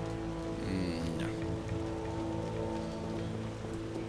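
Steady rain falling across a landscape in The Witcher video game, an even wash of drops pattering on surfaces throughout, with faint background tones and no speech.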